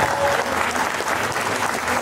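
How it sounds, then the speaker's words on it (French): An audience at a gaming convention applauds itself, a brief, even wash of clapping with faint voices in the crowd. "vous pouvez vous applaudir."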